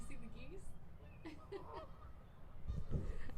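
Geese honk in short calls at a distance outdoors, faint and scattered under a quiet voice and some rustling nearby.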